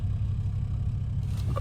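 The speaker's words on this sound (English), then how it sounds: "You can hear the burbles." Close, low rumbling car exhaust burbles in an uneven, pulsing crackle over a continuous engine drone, loud and brief, with a faint higher pop near the end.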